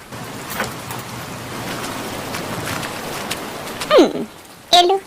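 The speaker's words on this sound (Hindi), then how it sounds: "बारिश हो रही है।" Rain falls steadily as a soft, even hiss that fills the whole stretch. Near the end a couple of brief, sharper sounds break in over it.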